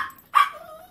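A puppy gives a single short, high yip at close range, fading quickly into a quiet room.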